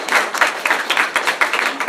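Audience clapping for a panel at the end of a session, a brief burst of rhythmic, fairly close hand claps.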